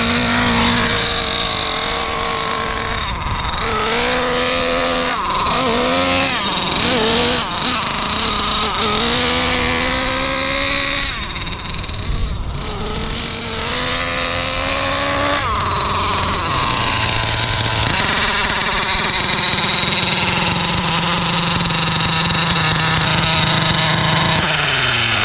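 Nitro RC engine with an air leak by the exhaust running on a stand, a loud buzzing whine that climbs and drops in pitch with throttle blips, then settles into a steadier idle, with occasional speech underneath.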